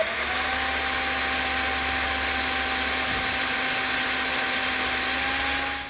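A drill bit bores through the metal frame of a utility trailer, whining continuously at a steady high pitch for several seconds before winding down at the end.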